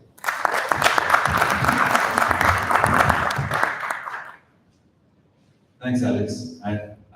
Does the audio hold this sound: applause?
yes